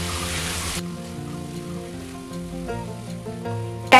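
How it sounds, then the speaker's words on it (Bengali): Ridge gourd and gram flour sizzle steadily as they are stir-fried in a hot pan, a continuous frying hiss with a brief louder clatter at the end and no talking. "আবারও 1 মিনিট এইভাবে নাড়াচাড়া করে একটু রান্না করে নিতে হবে।"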